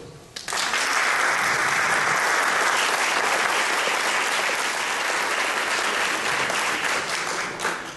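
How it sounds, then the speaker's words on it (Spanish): An audience at a festival talk starts clapping after a brief pause, rising quickly into a loud, sustained wash of applause that holds steady and tails off slightly near the end. "Juan Gabriel Vázquez, un aplauso para él."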